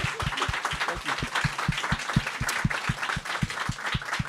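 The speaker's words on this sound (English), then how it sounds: "Let's give a big round of applause to Darcey and Brian." A studio audience claps steadily at an author talk, a dense wash of hand claps with a faint rhythmic thump running underneath.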